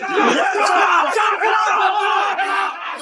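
Qinglong gang members erupt in loud, excited cheering after a rocket barrage explodes against a bunker's titanium door; a dense crowd of whoops and battle cries carries on without pause for the whole stretch.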